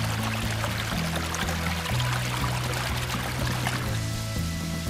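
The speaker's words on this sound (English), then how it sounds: "Little waterfall. Well, it's an ice fall a little bit this time of year." A small, partly frozen waterfall in winter woods near the solstice trickles and splashes steadily, a soft continuous watery wash at moderate distance with no voices.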